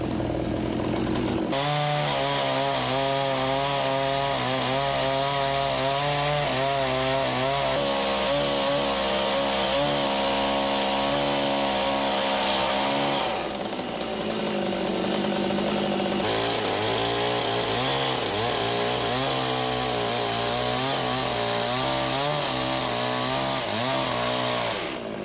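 A chainsaw cuts a slot into a log for a cabin window, its engine roaring loud and close almost without pause, the pitch shifting as the blade bites into the wood and eases off.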